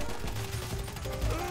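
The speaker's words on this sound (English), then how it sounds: "I can't see who's shooting me from over here, man." Gunfire in the GTA video game during a drug war in Los Santos, a dense steady clatter of shots and game noise filling the whole moment, with no talk.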